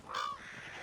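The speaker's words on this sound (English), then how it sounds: "Yep, killed a crow." A single crow in the video game Assassin's Creed Valhalla gives one short, hoarse caw, clear and fairly close, then fades into quiet background ambience.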